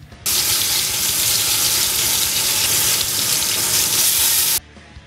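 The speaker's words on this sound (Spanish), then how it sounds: "esperamos que esté hirviendo y sellamos la carne hasta lograr un color caramelo" Beef searing in hot boiling oil in a pot gives a loud, steady sizzle that starts abruptly, holds for about four seconds with no talking, then stops.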